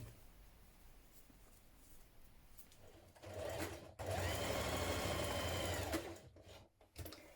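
A sewing machine joins dress facings at the centre front seam, stitching in a steady whirring run that starts softly and rises to a louder, continuous burst before stopping, with a brief restart at the end and no talking.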